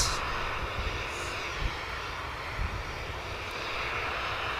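An Ethiopian airliner taxis at Manchester Airport, a steady distant engine roar with broadband rushing noise and a few faint thumps, continuous and moderately quiet.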